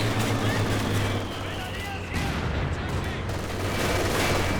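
Machine gun fire in the real-time strategy game Company of Heroes 2 during a 3v3 battle at a station, a steady rattling stream of shots under constant battle din while a commentator talks throughout.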